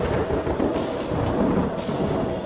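Thunder rumbles low and heavy over steady rain in a storm, a continuous rolling roar that fills the whole short stretch with no voices.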